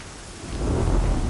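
A thunderstorm rumbles in the video game Horizon Zero Dawn, with heavy rain hissing and a deep roll of thunder swelling loud partway through.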